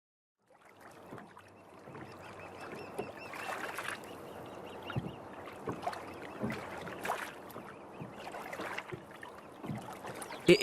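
A small boat rowed across a river, with oars splashing and knocking in an irregular rhythm over gently lapping water, close and fairly quiet.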